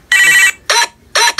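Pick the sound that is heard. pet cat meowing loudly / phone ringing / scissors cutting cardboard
phone ringing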